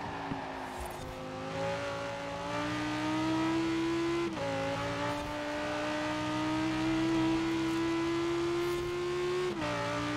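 An Italian V10 car engine in the racing video game Forza Horizon 4 revs high and climbs steadily through the gears, with sharp pitch drops at two gear shifts, loud and close, without any talk.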